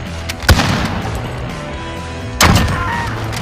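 Gunshots in Call of Duty: Modern Warfare: two loud, sharp reports about two seconds apart over steady in-game background noise.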